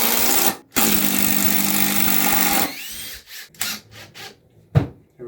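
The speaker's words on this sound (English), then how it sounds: "And we're gonna take this Makita. Use the same screws. The same area of wood here." Makita drill driving screws into wood, a loud whirring burst of a couple of seconds followed by shorter stuttering pulses and clicks as the screw seats, close up.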